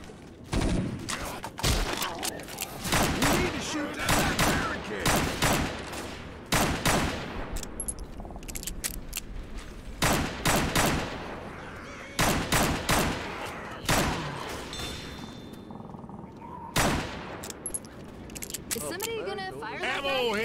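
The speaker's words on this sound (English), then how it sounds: "We need to shoot that barricade!" Rapid bursts of gunfire from Left 4 Dead players shooting at a barricade, loud and repeated, with excited voices talking over the shots.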